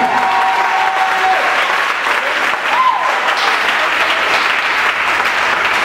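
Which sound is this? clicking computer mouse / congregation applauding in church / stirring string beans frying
congregation applauding in church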